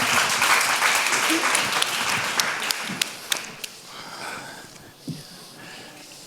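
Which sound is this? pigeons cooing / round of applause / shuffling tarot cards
round of applause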